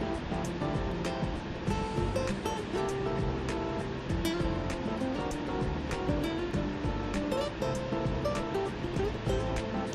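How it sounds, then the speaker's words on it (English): Ocean surf on the Tasmanian coast, about an hour and twenty minutes from Hobart, makes a continuous, loud, broad wash of breaking waves with no pauses. "Look at the ocean."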